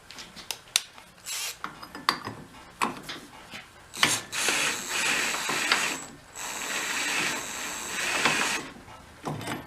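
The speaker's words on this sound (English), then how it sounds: "Spinning the nut off. Nut's coming off." A ratchet clicks rapidly as it spins a nut off an antique military engine, coming in short bursts at first and then longer runs of close, loud metallic ratcheting.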